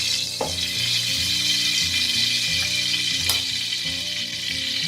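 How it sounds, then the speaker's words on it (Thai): Oil reused from frying pork belly sizzles steadily in a pan, with constant close crackling and a couple of sharp pops or stirring clanks. "แล้วก็ใส่น้ำมันนะที่เราใช้ทอดเมื่อสักครู่นี้ลงไปเลยค่ะ"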